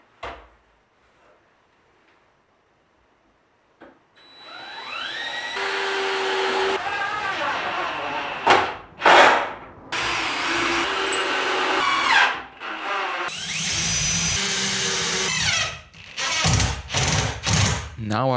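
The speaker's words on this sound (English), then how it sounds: "So I pre-drilled from below, countersunk the holes and inserted screws." A power drill pre-drills and countersinks holes, then drives screws into a plate while building a desk: a faint start, then repeated loud, close bursts of whining motor with pauses and clunks between them.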